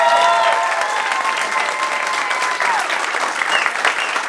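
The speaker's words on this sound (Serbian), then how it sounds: "Ovo nije spontani aplauz" An audience at a live stand-up comedy show in Pula applauds, dense sustained clapping up close and loud, with some cheering and voices mixed in throughout.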